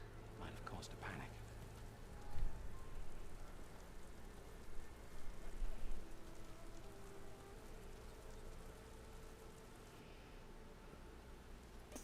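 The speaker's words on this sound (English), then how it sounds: "The rain with no complete overcast in the sky?" Rain in Horizon Forbidden West falls as a steady, soft hiss throughout, with a few brief sounds and faint talk mixed in near the start.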